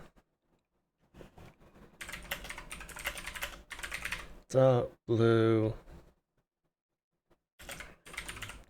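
Rapid typing on a computer keyboard, close clattering keystrokes in bursts separated by pauses, with someone speaking briefly in the middle.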